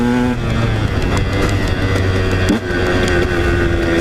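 A 2012 KTM 150 SX two-stroke motorcycle engine drones loud and steady while riding, its pitch wavering slightly with the throttle, close to the rider with no talk.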